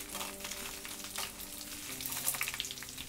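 Dried red chillies fry in a pan for a tamarind-leaf chutney, a close, bright sizzle with crackling pops and occasional stirring, steady and moderately quiet without voices.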